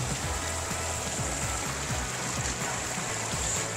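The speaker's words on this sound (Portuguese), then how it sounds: "a gente tem que passar por dentro dessa cachoeira aqui, ó." Rushing water of the Indiana Jones waterfall in Lumiar, Nova Friburgo, a steady close broadband roar with splashing throughout, with no voices.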